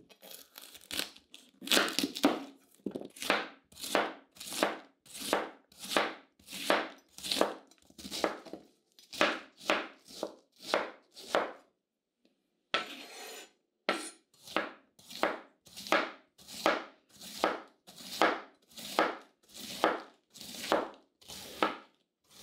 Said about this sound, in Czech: A zelí krájím na nudličky, klidně můžou být delší